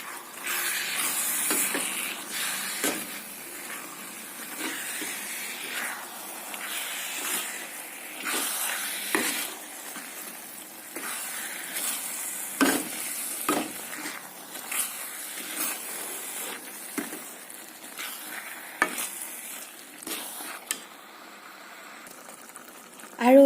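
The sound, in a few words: stirring coconut and jaggery laddoo mixture in a pan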